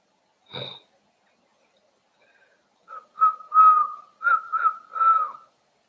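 A person whistles a short tune of several wavering notes after one brief breathy sound, close by and alone without talk, with a somewhat unsteady pitch.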